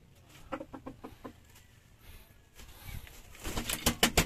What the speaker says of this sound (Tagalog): Puro Kelso tong mga manok niya.